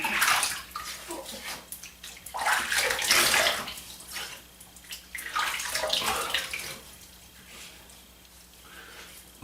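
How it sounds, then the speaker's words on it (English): Tap water runs and splashes while a OneBlade Core razor is rinsed under it, a close, steady hiss that swells and fades in several waves as the blade moves through the stream. "Okay, I'm going to rinse again."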